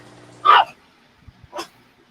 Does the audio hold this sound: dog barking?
yes